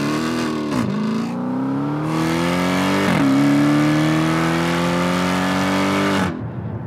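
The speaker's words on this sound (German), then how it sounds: "wenn man dem Auto richtig die Sporen gibt. Denn dann knallt die Hellcat die Gänge rein" A Dodge Challenger Hellcat with an automatic gearbox accelerates hard: a loud, close engine roar climbs steadily in pitch, drops sharply at two quick upshifts, then climbs again before cutting off abruptly near the end.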